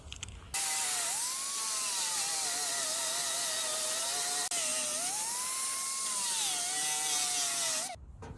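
A high-pitched angle grinder whines steadily while grinding down welds on a steel Willys Jeep pickup fender, its pitch dipping and rising as pressure changes, loud and close without speech, starting and stopping abruptly.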